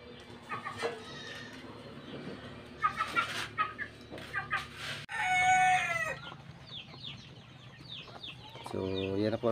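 Farmyard chickens cluck in quick scattered bursts close by, then a rooster lets out a loud drawn-out crow, followed by more clucking and another rising crow at the end.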